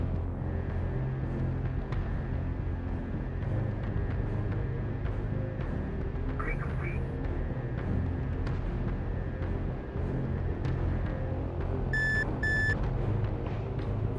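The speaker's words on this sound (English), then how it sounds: "I got lights on. I've got alarms going off," Cockpit warning alarms in the DCS flight simulator: a sustained electronic tone repeats over a loud, constant engine drone, with a pair of sharp beeps near the end.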